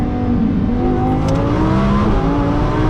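A 1600 whp twin-turbo Lamborghini Huracan Performante pulls hard at speed, its engine a loud, steady, dense roar that holds without letup for about three seconds.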